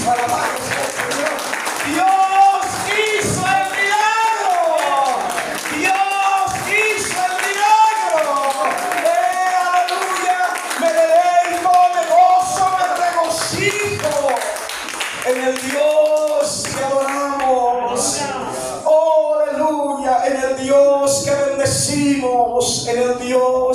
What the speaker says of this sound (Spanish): Denle un aplauso a Jesucristo, alabado sea el Señor.